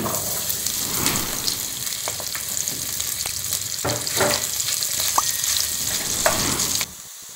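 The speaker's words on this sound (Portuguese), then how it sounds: "E agora a gente vai fritar a calabresa." Calabresa sausage frying in a pan for feijão tropeiro gives a steady, close sizzle with occasional clicks of stirring, then cuts off abruptly near the end.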